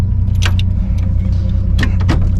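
Keys on a keychain jangle in a few quick metallic bursts inside a running Impala, heard over a steady low engine hum.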